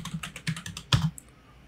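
Quick burst of typing on a computer keyboard while renaming a shape key in Blender, about ten close key clicks in a rapid uneven rhythm ending on a firmer keystroke, then quiet.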